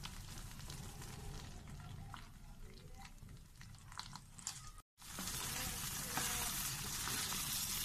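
A leftover-rice dodol mixture bubbles and sizzles in a pan, a soft continuous frying hiss with small pops and stirring sounds, close and moderately quiet, with a brief cut partway through.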